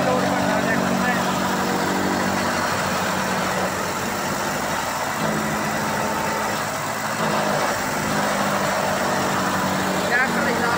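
A tractor engine, an Eicher 485, labours under heavy load while driving a cutter machine, giving a steady, loud drone throughout with a broad mechanical rumble and rattle; voices talk over it.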